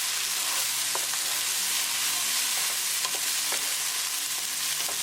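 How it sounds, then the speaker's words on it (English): Steady loud sizzling of onion, ginger, green chili and tomatoes frying in a pan for sookhi urad dal, with occasional stirring scrapes and no voices. "cook ginger and green chili with onion for 1 minute"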